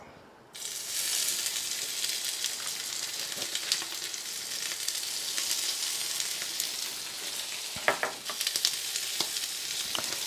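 Spicy shrimp fry in a hot pan with a steady, loud sizzle that starts abruptly and holds throughout, broken by a few sharp pops and crackles near the end.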